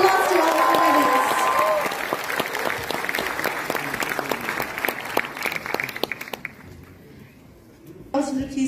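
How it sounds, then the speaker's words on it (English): Audience applause for winners at a youth festival prize distribution in Kohima, loud and dense at first with a voice over the opening, then thinning to scattered claps before a brief burst returns at the end. "Can we give a big round of applause to all the winners?"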